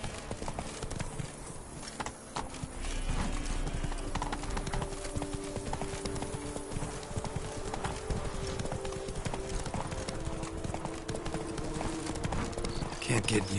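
Roach, the horse in The Witcher 3: Blood and Wine, trots with steady clip-clopping hooves over a low game soundscape, under ongoing talk.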